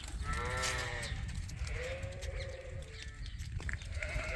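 Sheep bleat in a barn in snowy winter, several wavering calls near and moderately loud over a low rumbling background.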